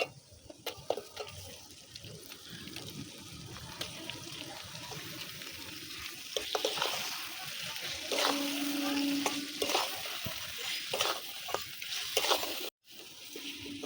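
Fried chicken goes into a pan for curd chicken, and a quiet sizzle builds with scattered clinks and stirring scrapes, then grows louder and steadier partway through before a brief cut.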